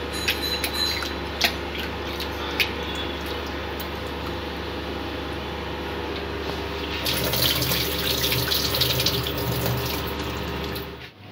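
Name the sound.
rinsing moong dal lentils under running tap water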